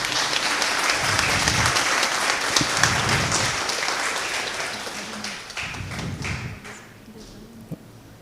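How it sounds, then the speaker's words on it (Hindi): A church congregation claps to welcome Sister Jacinta Lobo, with a sustained burst of applause that thins and fades toward the end, and a few sharp knocks and murmured voices mixed in. "जसिंता लोबो सिस्टर का एक बार ताली बजाकर स्वागत करिएगा"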